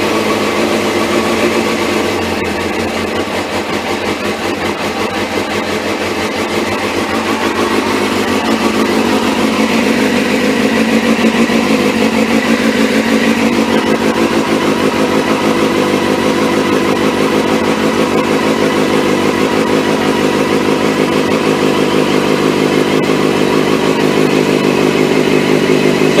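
A Suzuki GSX1300R Hayabusa idles inside a small wooden shed, a loud, steady, close engine rumble with slight rises in revs throughout.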